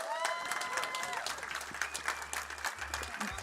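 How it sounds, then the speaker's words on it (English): An audience at a summit keynote claps for the Star Atlas team, a dense, steady round of applause heard alongside a speaker's voice. "Can we just give them a round of applause to the incredible Star Atlas team?"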